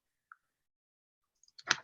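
Keys on a graphing calculator keypad are pressed: a single faint click, then a quick, slightly louder cluster of taps near the end, with silence between.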